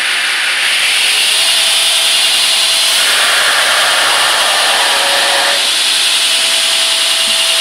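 Lightweight yet rigid belt grinder/sander doing heavy grinding, a loud continuous abrasive hiss and whir with a steady motor tone that shifts as pressure changes, close and sustained throughout.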